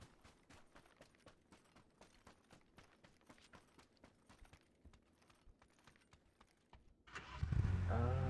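A car engine starting in PUBG on the snowy Vikendi map, first a run of quiet rhythmic footsteps, then the engine turning over abruptly near the end and settling into a loud, steady low rumble.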